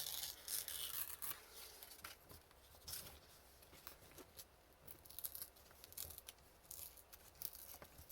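Paper torn by hand in short, uneven rips and rustles for a junk journal craft project, close and fairly quiet, with small crinkles and handling noises between tears.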